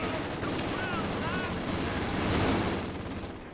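Mortar and gunfire from a Company of Heroes 2 1v1 match, a dense rumbling barrage of booms and shots running continuously under loud battle noise, with talk mixed in.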